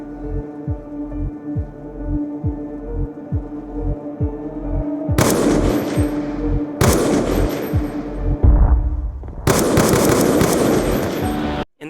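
Heavy automatic gunfire from a Black Ops 2 mission, a rapid pulsing burst that gives way to loud, sustained volleys with sharp cracks, close and dense, no voices over it.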